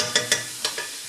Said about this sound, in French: Voilà, je remue bien.